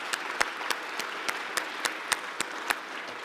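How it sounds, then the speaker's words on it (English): At a teachers' awards dinner, a light round of applause from the room stands behind about ten sharp, evenly spaced claps from one nearby pair of hands, each ringing out distinctly over the softer crowd. "I think we'll give you a round of applause to start."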